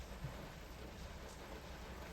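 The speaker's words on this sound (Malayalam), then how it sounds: "നല്ല മഴയുണ്ട്, നല്ല തണുപ്പ് കുറച്ചുണ്ട്" Steady night rain falling in Kathmandu, a dense even hiss of drops on surfaces, close and continuous with no speech.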